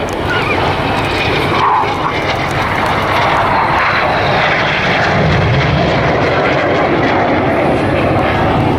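Display team jets roar overhead during carousel turns at the 2015 Bournemouth Airshow, a loud, continuous engine rumble that holds steady and close throughout.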